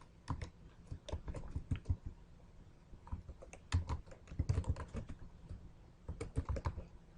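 Typing on a computer keyboard while editing text, with irregular bursts of sharp key clicks and pauses between runs, close and fairly quiet.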